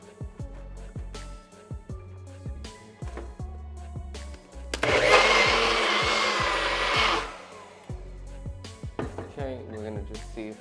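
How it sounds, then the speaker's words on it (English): Blender pureeing a red velvet ice cream mixture, a loud whirring burst lasting about two seconds in the middle, framed by clinks, taps and people talking before and after. "And then puree until smooth,"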